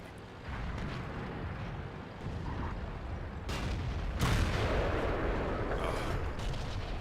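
Heavy tank cannon fire in World of Tanks from a Tiger II, heard as a couple of deep booming blasts over a constant engine rumble, loud and close.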